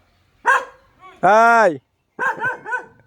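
A dog barks loudly and close by, a few sharp harmonic barks and one drawn-out howling bark, with a brief spoken greeting from a person mixed in.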